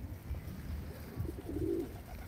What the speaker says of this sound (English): Do you like pigeons? I love pigeons. They're really soft as well.